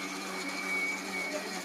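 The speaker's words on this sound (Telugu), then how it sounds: "చట్నీ కూడా మిక్సీ పట్టేస్తున్నాను" A kitchen mixer grinder blends peanut and coconut chutney, giving a steady, loud motor whine with no pauses or talk.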